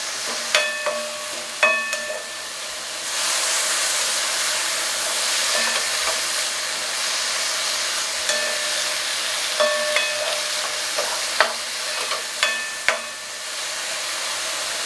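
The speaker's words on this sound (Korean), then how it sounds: "한 30초 정도만 더 볶아볼게요" Jjamppong meal kit ingredients being stir-fried in a frying pan, giving a steady close sizzle and hiss with scattered clinks and scrapes of a utensil against the pan, and no talking.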